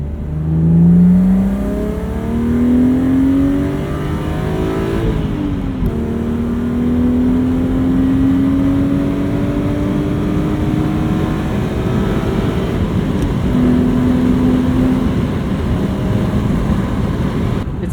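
A BMW E36 M3 test car accelerates hard through several gears, its exhaust note rising in pitch with each pull and dropping at shifts, loud and continuous.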